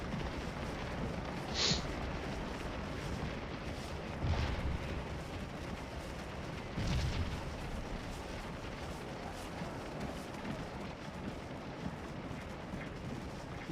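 Cannon artillery in the Civil War video game Scourge of War Remastered fires in three distant, muffled booms a few seconds apart over a low battlefield rumble.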